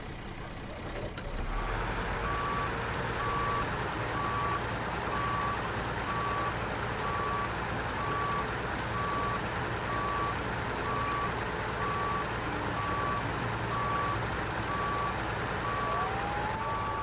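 A truck's reversing alarm in the off-road driving game SnowRunner, with evenly spaced beeps repeating over a loud, steady engine rumble that runs throughout, all heard close up.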